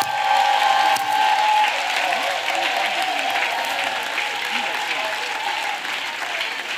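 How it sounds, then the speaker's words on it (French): Sustained applause from a church gathering audience, loud and steady throughout, with some crowd voices mixed in. "Clap for Jesus Christ."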